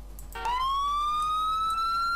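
A police car siren in the video game Emergency 4 with a London setting, rising into a loud sustained electronic wail after a short quieter lead-in, with no talking over it.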